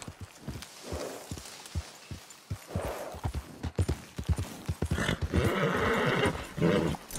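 Horse hooves clip-clop steadily on the ground in Red Dead Redemption 2, with occasional horse snorts and a whinny among dense, moderately loud game sounds.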